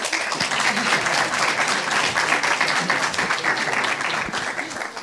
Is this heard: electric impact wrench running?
no